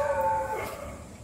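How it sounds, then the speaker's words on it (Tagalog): A large neighbourhood dog howls in a single drawn-out, wavering cry, fairly near and loud, tapering off over about a second with no other sounds. "Ang lalaki ng boses ng aso dito."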